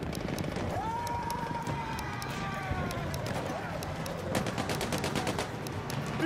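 Gunfire in the video game Battlefield 1: rapid bursts of shots crackle over a steady battle din, with a whistling streak early on and a denser volley near the end, while someone talks over it.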